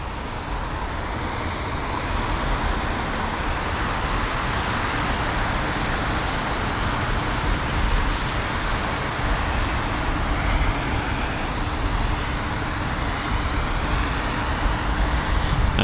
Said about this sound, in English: the American Airlines Boeing 777-200 has arrived from Dallas